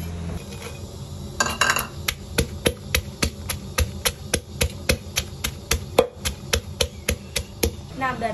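A knife chops herbs rapidly on a board, sharp regular strikes in a steady rhythm, close and crisp, with a few quicker clusters and no talking.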